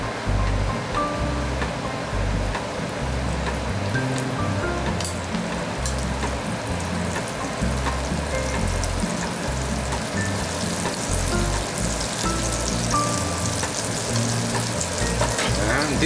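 Butter sizzles steadily in a frying pan on a low flame, a constant close crackling hiss that holds at even loudness throughout with no talking.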